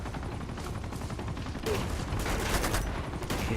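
Rapid bursts of gunfire in Uncharted 2, with a steady rattle that swells louder partway through; a voice is barely present in the background.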